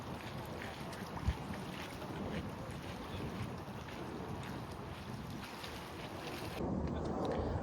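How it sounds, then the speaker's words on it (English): Steady wind buffets the microphone outdoors, a continuous rushing roar with a brief gust swell near the end. "It's very nice outside, but it's a little windy"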